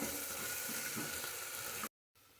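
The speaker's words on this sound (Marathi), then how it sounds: "त्यानंतर अद्रक लसूणची पेस्ट घालूया, व्यवस्थित फ्राय करून घ्यायचं" Ginger garlic paste frying on high flame, a continuous close sizzle and crackle that runs steadily before cutting off abruptly near the end.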